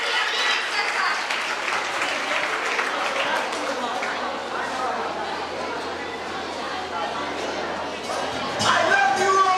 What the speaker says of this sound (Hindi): जोरदार तालियों के साथ स्वागत कीजिए हमारी आज की अगली नृत्यकर्ता का